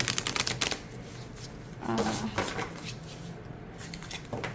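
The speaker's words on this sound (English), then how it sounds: "let's see how this big deck shuffles" A large tarot deck is riffle-shuffled: a rapid flutter of clicking cards, then softer shuffling and tapping as the deck settles.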